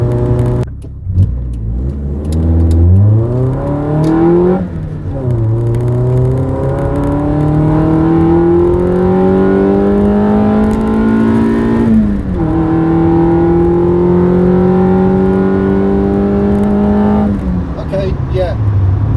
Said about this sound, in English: Maybe I'm not revving it enough.